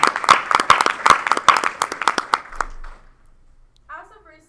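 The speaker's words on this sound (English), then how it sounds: "Let's give a round of applause to our seniors." Applause for graduating seniors at a school board meeting, brisk clapping from a small group that rings out for about three seconds and then stops, followed by brief quiet with a faint sound near the end.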